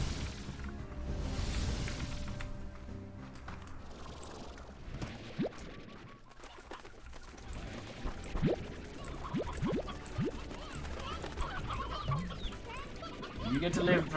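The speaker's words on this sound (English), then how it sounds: "You get to live for now, chicken" Chickens clucking in the video game Slime Rancher, scattered short clucks and squawks over background game music and sound effects, with a voice talking at times.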